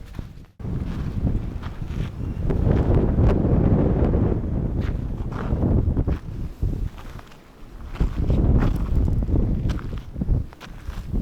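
Wind gusting across open desert terrain at Cap Rock in Joshua Tree National Park, a steady low rumbling roar of wind buffeting the microphone for the whole stretch, easing briefly midway before surging again, with no talking.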